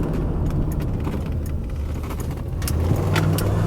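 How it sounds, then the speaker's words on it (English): A 1993 Cadillac Coupe DeVille with the 4.9L V8 cruises along smoothly, a low, steady engine and road rumble heard from inside the car, with faint light rattles and ticks over the drone. "smooth driving car"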